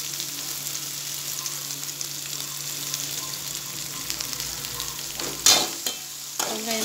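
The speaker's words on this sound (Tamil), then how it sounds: "வெங்காயம் பூண்டையும் இது நல்லா வதக்கிப்போம்." Chopped onion and garlic sizzle softly in a pan while being sautéed, a steady frying hiss with a couple of louder stirring scrapes near the end.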